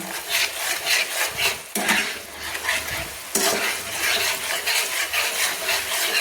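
Masala paste with salt stirred in a pan for a Bengali mustard tilapia curry: a steady, close sizzle under continuous scraping strokes of a spoon against the pan, with a couple of sharper knocks and no talking.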